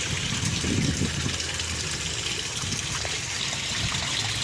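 An aquaponics pump keeps water bubbling and trickling in a fish tank, a steady close wash of gurgling liquid with a faint motor-like hum beneath and no talk.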